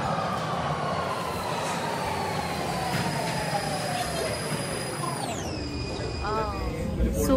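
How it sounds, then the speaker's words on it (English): A U-Bahn subway train in Germany, heading to the main station, rides along with a steady rumbling roll, rising wheel squeal and a falling electric motor whine near the end, loud and close from inside the car, with faint voices underneath. "So we have boarded our first train, U-Bahn."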